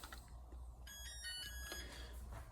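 A kitchen timer rings while eggs are poached on the stove, a steady electronic beeping tone lasting about a second over a low kitchen hum.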